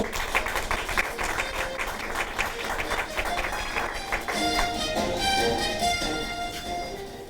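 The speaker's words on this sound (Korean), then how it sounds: "박수로 맞아주십시오." Steady applause from a crowd at an award ceremony fills the room, dense and continuous clapping throughout with a brighter, ringing tone toward the end.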